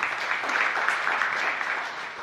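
Steady, dense applause from a church congregation, a continuous wash of clapping without pauses, fairly close and even in loudness throughout.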